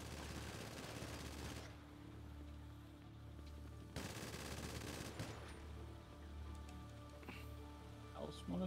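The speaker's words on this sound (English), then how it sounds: "I just have a little fun with my minigun" Sustained rapid minigun fire in GTA V, a dense continuous roar that runs in long bursts with a short break, loud and steady throughout.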